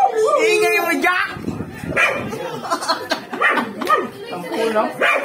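Jack, a dog, lets out a run of sharp barks and yips near the listener while people chatter loudly around him.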